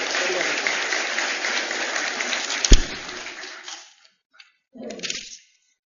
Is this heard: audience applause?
yes